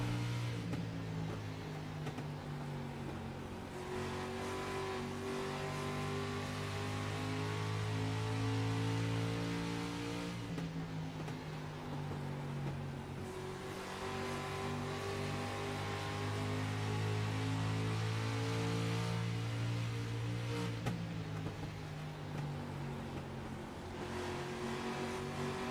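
Onboard race car in the iRacing video game at Kern County Raceway, its engine droning loud and steady through a lap, with pitch climbing and dropping as the car accelerates and lifts into corners several times.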